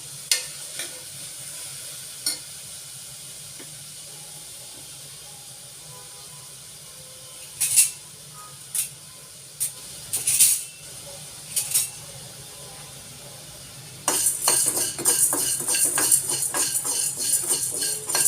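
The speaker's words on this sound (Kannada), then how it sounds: "ಈಗ ಸಾಗುಗೆ ಬೇಕಾಗುವಂಥ ಒಂದು ಮಸಾಲೆಯನ್ನು ಹುರ್ಕೊಳ್ಳೋಣ" Chana dal roasting dry in a pan for sagu masala, with a faint hiss under scattered scrapes and taps of a spoon, then a denser run of stirring clatter near the end.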